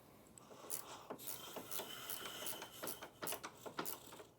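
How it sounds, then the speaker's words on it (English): A 3/16 Allen key turning out a brush lift shoulder bolt on an IKON floor buffer, with faint close metallic ratcheting clicks and scrapes in an irregular rhythm, quiet and alone. "Taking your 3/16 cut Allen, we will remove the brush lift shoulder bolt."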